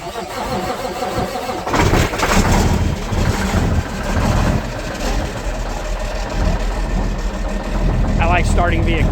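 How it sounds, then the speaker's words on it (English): A semi-truck engine cranks and starts, then settles into a loud, deep, rumbling idle that continues to the end, with a voice talking over it. "I will start this semi-truck and bring the man lift back to my house"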